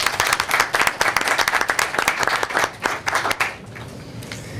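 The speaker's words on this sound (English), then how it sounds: "So another applause for Hollywood" Audience applause at a school board meeting: a room of people clapping in a dense, lively burst that thins out and fades near the end, leaving quiet room tone.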